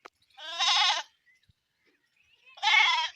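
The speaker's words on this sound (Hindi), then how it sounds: "खूबसूरत बकरी" Goat bleating in a village farmyard where goats graze on grass in the morning: two loud, wavering bleats about two seconds apart, close by, with no talk.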